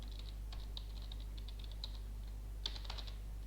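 Quiet keystrokes on a computer keyboard come in short irregular bursts over a steady low hum, with a faster cluster of taps near the end and no talking.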